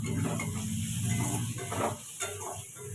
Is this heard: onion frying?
yes